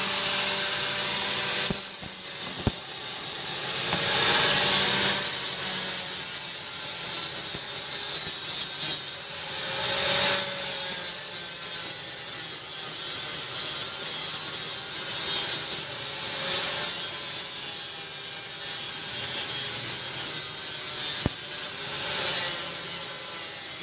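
An angle grinder fitted with a flat disc working on a broken crankshaft flywheel bolt, producing a loud, continuous abrasive grinding hiss that swells and dips over a long stretch.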